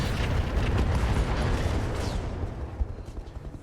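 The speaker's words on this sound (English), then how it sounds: "Ammo explosion." An ammunition explosion on a BattleTech mech in a strategy video game bursts out as a loud, sustained rumbling roar with crackling debris that gradually fades, no voices present.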